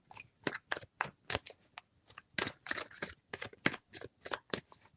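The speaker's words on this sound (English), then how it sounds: "Three shuffles." Tarot cards are shuffled close up in a quick series of soft, crisp riffling clicks and flutters, with brief pauses between the bursts.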